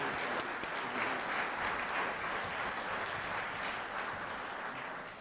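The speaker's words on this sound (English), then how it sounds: "A round of applause, 33 years of service to Topeka and the Charger Dome, Rich Mariani." An audience at a high school sports awards and hall of fame ceremony applauds steadily, a dense, continuous roar of many hands that stays even and full throughout.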